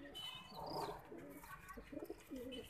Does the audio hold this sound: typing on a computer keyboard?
no